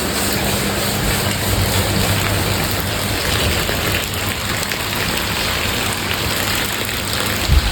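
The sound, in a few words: rain falling outside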